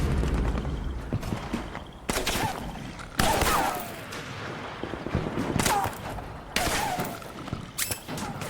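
Metal Gear Solid 4: Guns of the Patriots combat, with bursts of gunfire and sharp impacts recurring every second or two amid a noisy battle soundscape. Faint voices can be heard here and there.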